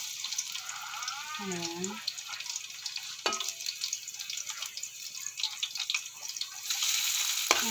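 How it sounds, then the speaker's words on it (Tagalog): Garlic sautés in a home kitchen pan, a soft steady sizzle running throughout while a person talks over it, with a brief clink partway through. "Igisa natin ang ating bawang."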